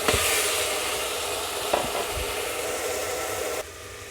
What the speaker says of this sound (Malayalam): നമ്മുടെ സവാള ഇട്ട് കൊടുത്തിട്ട് നന്നായി ഒന്ന് ഇളക്കി ഒന്ന് മിക്സ് ചെയ്തിട്ടുണ്ട്.